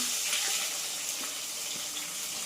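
Onions and tomatoes fry in a pan with a steady, close hiss and crackle, continuous and even.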